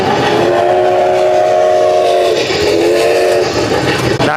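A train sounds its whistle in two long, loud, harmonic blasts, the second a bit shorter, over a rumbling rail background with no talking.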